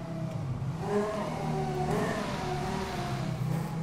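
A car engine revs and drones steadily in GTA Online, pitch rising and falling as it accelerates, with a synthetic, game-like tone and no talking.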